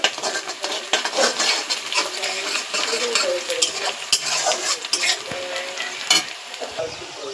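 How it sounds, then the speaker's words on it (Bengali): Onions frying in a pan until browned, a continuous sizzle punctuated by the scrape and clink of a metal spoon stirring against the pan, close and fairly loud, with no talking. "আমি পেঁয়াজ ভাজতে বসায়া দিয়েছি।"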